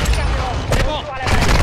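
Sniper rifle shots in a shooter video game crack out as loud, sharp bursts over a dense bed of gameplay noise, with a voice mixed in.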